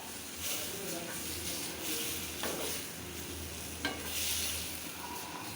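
Eggplant curry frying in oil, with a steady soft sizzle and occasional scraping stirs in the pan, heard at close range and fairly quiet.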